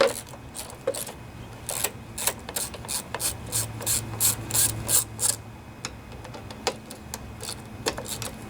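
Rapid close ratchet clicking while 5/16 bolts are loosened from the air cleaner mounting plate of a Briggs and Stratton lawnmower engine, bursts of quick pawl clicks with short pauses between strokes.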